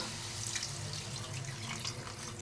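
Tamarind water, made from a small gooseberry-sized piece of tamarind dissolved in water, pours steadily into a cooking pot of kuzhambu, a continuous close splashing stream without pause.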